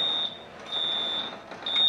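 A garage alarm system beeps during its entry delay, three high electronic tones in an even on-off pattern, loud and clear over quiet room noise.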